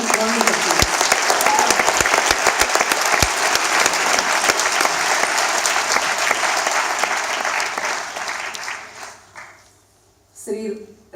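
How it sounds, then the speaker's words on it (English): An audience gives loud, sustained applause after a professional-standard flute recital and arangetram, a dense clapping wash that fades out after about nine seconds, followed by a brief voice. "Then please give me a round of applause."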